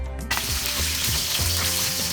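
A bay leaf, a dried red chili and panch phoron hit hot oil for a Bengali rohu fish curry, and a sudden loud, steady sizzle runs close and continuous to the end.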